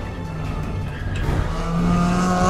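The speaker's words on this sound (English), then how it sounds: "Don't forget about my new remote control Bat car." A remote-controlled Hot Wheels Batmobile toy car drives along with a continuous motor whir that grows slightly louder and higher as it goes, heard close up with no talking.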